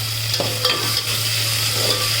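Onion, green chilli and mint frying in oil, a continuous close sizzle with a steady low hum in the background and a few light stirring scrapes.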